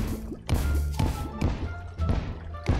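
Bombs detonating against obsidian blocks while mining in the video game Terraria, heard as a series of about five dull, punchy thuds spaced roughly half a second apart over a low game background.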